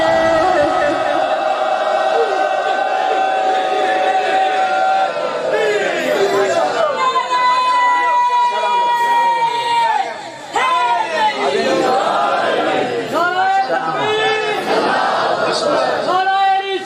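A large crowd at a religious majlis gathering shouts and chants together in loud, rhythmic bursts of response, with overlapping voices filling the space.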